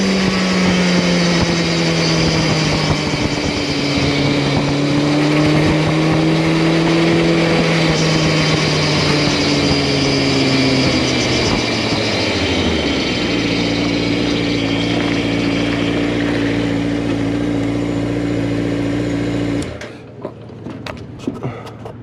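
A crosskart engine revs hard during a high-speed run in third gear, a loud droning motor whose pitch climbs and shifts, then drops away near the end with wind rush; no talk.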